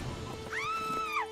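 A horse in The Witcher 3 gives a short, high whinny that rises and falls, heard faintly over quiet background game ambience.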